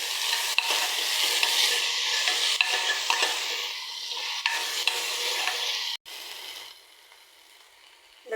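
Chopped vegetables and tomato, added after garlic, sizzle and fry in a pan while being stirred, a steady close sizzle with scraping stir strokes that drops quieter near the end.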